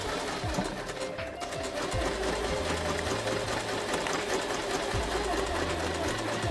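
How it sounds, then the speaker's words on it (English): A Kreshay sewing machine stitches a triple zigzag, its needle hammering in a fast, even, close rhythm that runs continuously, with faint voice in the background. "We'll go and do the triple zigzag."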